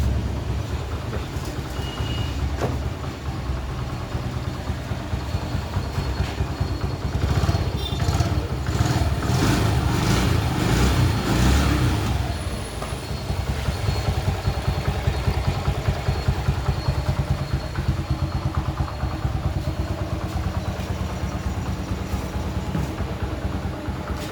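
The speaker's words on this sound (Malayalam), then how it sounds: "വണ്ടി ഒറ്റയടിക്കുന്ന സ്റ്റാർട്ടാക്കി." A TVS XL100 moped engine, freshly rebuilt, runs steadily with a rapid putter, revving briefly louder for a few seconds before settling back to a constant idle.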